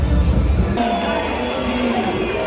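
Football crowd in a German stadium at a Germany–England match, a dense roar of fans booing the English team as they walk out, loud and continuous throughout with a brief swell of louder voices at the start.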